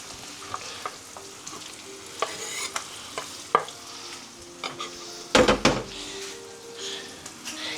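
Steady frying sizzle of finely chopped garlic fills the background, with occasional stirring scrapes and clinks of a utensil against the pan, growing busier near the end.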